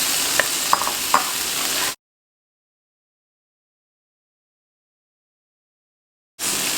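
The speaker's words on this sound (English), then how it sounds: "Once the masalas are fried, just put the eggs into it." Boiled, lengthwise-halved eggs are stirred into sizzling fried masala, a close steady frying hiss with a few sharp spoon clicks, then complete silence for several seconds before the sizzle returns.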